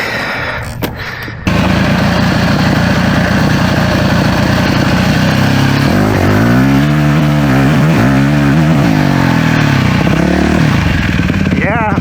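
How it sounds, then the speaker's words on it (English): Motorcycle engine with a sputtering fault at low RPM, running loud and close, idling roughly then revving in several rising and falling sweeps, the uneven misfiring beat continuing throughout. "that sputter goes away once I'm above a certain RPM"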